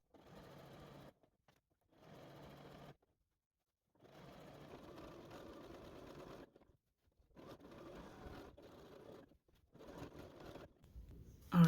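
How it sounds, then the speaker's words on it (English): A sewing machine runs a wide zigzag stitch along an A-line skirt seam, its steady whirring coming in several bursts of one to three seconds separated by brief pauses, close and moderately loud, with no talking. "I finished sewing zigzag all around my seam, and that's going to help it not fray as much"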